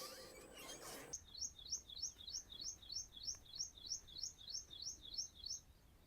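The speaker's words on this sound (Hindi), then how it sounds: "चिड़िया जो है ना उसके चहचहाने की आवाज़ बहुत ही खूबसूरत" Small birds chirp outside a house in the morning, a fast repeated tweeting pattern in steady rhythm, fairly faint and alone after a brief rustle at the start.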